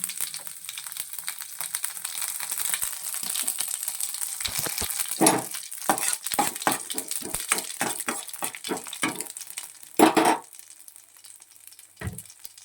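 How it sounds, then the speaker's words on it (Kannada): Cumin seeds sizzle and crackle steadily in hot oil while a samosa filling is made, with a bright continuous fizz broken by sharp pops and a few louder spatters near the end, close and without talk. "ಕಾದಿರೋ ಎಣ್ಣೆಗೆ ಒಂದು ಟೀ ಸ್ಪೂನಷ್ಟು ಜೀರಾನ ಆ್ಯಡ್ ಮಾಡ್ತಾಯಿದ್ದೀನಿ"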